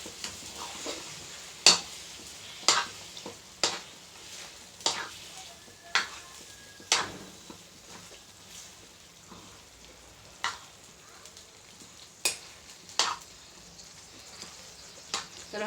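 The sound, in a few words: tempering being stirred and sizzling in an iron wok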